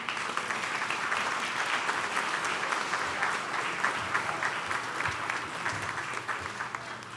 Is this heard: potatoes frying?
no